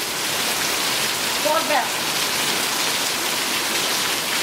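Rain falls steadily outdoors during a film shoot, a dense, even wash of drops close by, with a brief voice speaking over it.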